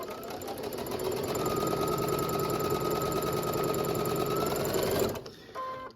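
A sewing machine runs steadily while stitching fabric for a table runner, a close, even mechanical whir held for about five seconds before it stops and a few faint clicks follow.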